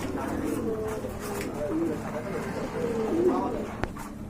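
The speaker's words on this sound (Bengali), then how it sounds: "আরেক জোড়া কবুতর দেখতে পাচ্ছেন এটা ভাই কি জার্মান সিল কবুতর এটা কিন্তু অনেক বড় সাইজের কবুতর" A pair of large German seal pigeons coo softly in repeated low rolling calls with a sharp click near the end, while someone talks over them.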